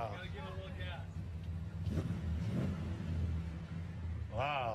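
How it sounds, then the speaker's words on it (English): Car engine fitted with replaced mufflers idles and rumbles steadily in the low range throughout, while people talk excitedly over it. "Oh, they changed the mufflers."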